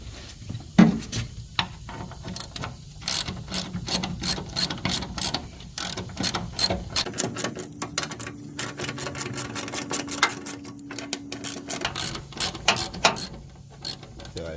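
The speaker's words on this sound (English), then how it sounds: "to get these 6 bolts out, and we also have our opening wrench to get to the ones where we may not be able to get to with the ratchet" Ratchet wrench clicking steadily as bolts are backed out during a fuel pump replacement on a 1998 Ford F-150, close and fairly loud, in rapid bursts of ratcheting strokes with brief pauses between them.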